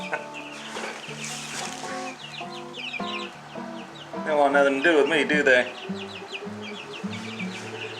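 Backyard chickens cluck steadily up close in short repeated notes, with a few louder squawks in the middle, while someone talks over them.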